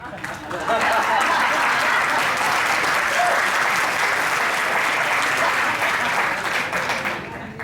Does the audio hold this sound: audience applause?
yes